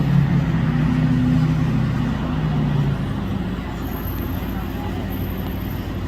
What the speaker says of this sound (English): And people are still pulling in trying to find gas.